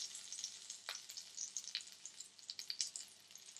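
A chicken mince cutlet frying in oil gives a soft, fairly faint crackle. Light pops and spits are scattered irregularly through it, and no one speaks.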